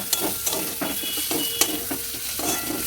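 Clams frying in a pan, a continuous close sizzle broken by repeated scraping stirs of a utensil against the metal, with no voices.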